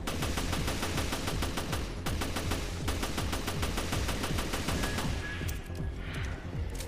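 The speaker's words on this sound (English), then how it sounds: "Because I'm like, this is a fully automatic gun." Rapid, sustained bursts of fully automatic G18 pistol fire from Jessica in the Resident Evil Trench mode, dense and loud throughout with brief pauses between strings of shots, no talking.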